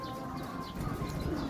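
Soft, low pigeon cooing repeats in a steady murmur, close by, with faint chirps and a steady background hum.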